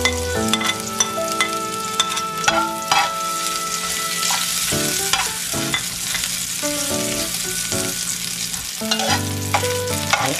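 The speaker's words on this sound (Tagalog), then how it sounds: "Hayaan lang matoast ng kaunti yung bawang at saka luya." Garlic and ginger fry in hot oil for balbacua, a cow-skin stew, and are stirred steadily. The sizzle is constant and close, with a ladle scraping and clinking against the pan and no talking.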